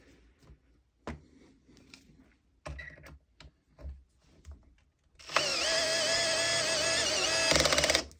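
Makita 12V multi-chuck driver set to clutch setting 10: a few handling clicks and knocks, then the motor spins up into a loud, steady high whine for about three seconds before stopping.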